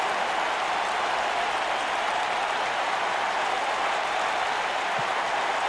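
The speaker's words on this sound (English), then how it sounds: "This crowd is jacked at that decision." A WWE 2K wrestling video game crowd cheers and applauds in a dense, steady roar that holds at the same level throughout, loud and continuous.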